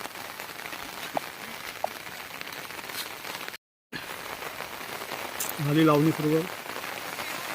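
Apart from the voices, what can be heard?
rain falling on fields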